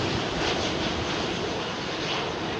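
Steady broadband roar of a Boeing 777 jet taking off at London Heathrow, loud and constant without talk.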